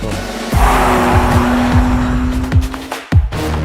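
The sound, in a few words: BMW M3 G80 test car driving on the Nürburgring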